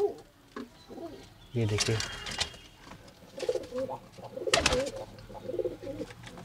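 A wild pigeon coos softly in low, throaty bursts, close by, while a person talks over it and some rustling and clattering happen.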